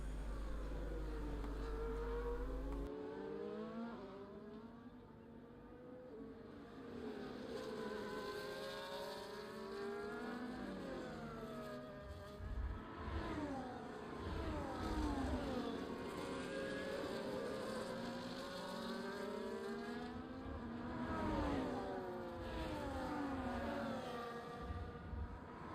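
F1 race cars in a racing video game roar past in overlapping waves, engines rising and falling in pitch as several cars pass and brake, continuous and loud throughout.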